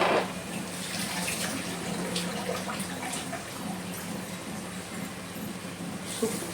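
Water from a grinder jar is poured into a pan of Nethili anchovy fish curry masala, giving a steady, close splashing stream with small bubbly trickles that runs without pause and without any talk.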